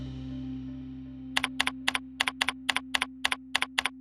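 Rapid keystrokes on a computer keyboard while entering data into Sage 50 accounting software, about seventeen crisp, close clicks in quick bursts after a second of quiet room hum.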